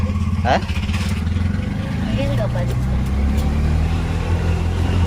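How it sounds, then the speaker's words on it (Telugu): An auto rickshaw engine drones steadily and loudly from close by as it drives, a continuous low rumble with people talking over it. "సో మేమైతే ఆటోలో బయలుదేరినామండి ఇక అక్కడి నుంచి"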